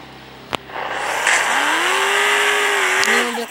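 A trophy truck's engine in the Hill Climb Racing mobile game revs up after a click and holds a loud, steady buzzing whine, its pitch rising and falling, with no talking.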